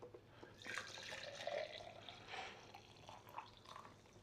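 Coffee is poured out of a French press in a quiet splashing, gurgling stream with faint drips, soft and close, with no voices.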